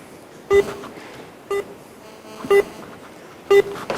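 Phone call tones: four short, evenly spaced beeps about a second apart, clear and close, with quiet background between them.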